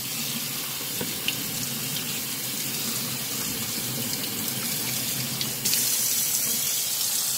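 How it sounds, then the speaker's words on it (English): Tap water runs steadily into a sink while sprouted mung daal is rinsed, a loud, close, continuous splashing hiss that brightens slightly near the end, with no talk. "So this is day 2 mung daal, sprouted mung daal. So I'm gonna wash it now."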